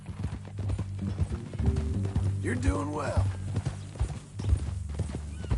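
Horse hooves clip-clopping at a steady walk in Red Dead Redemption 2, with a brief whinny midway, while people talk over the hoofbeats.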